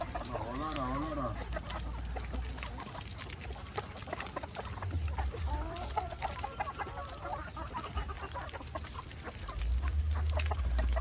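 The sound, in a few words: chicken clucking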